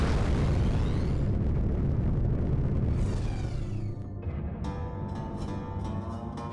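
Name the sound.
incoming missile explosion in video game Rebel Galaxy Outlaw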